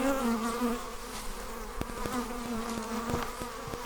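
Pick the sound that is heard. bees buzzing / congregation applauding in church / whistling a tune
bees buzzing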